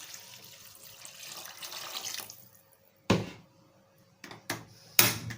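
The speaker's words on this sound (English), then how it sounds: "and add more water." Water running from a tap into a cooking pot for achi soup, a soft continuous pour that stops, followed by several short bursts of splashing and clatter.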